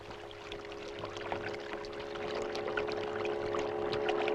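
A small boat moves across water in India, giving a steady wash of splashing and pouring water with a low, droning hum underneath. The sound gradually grows a little louder, and no one speaks.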